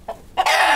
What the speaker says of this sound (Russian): Черненький петушок мой.